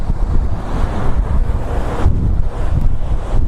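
Strong wind buffets the microphone at the beach, a loud rumbling roar with ocean surf washing underneath, steady and close with gusts rising and falling.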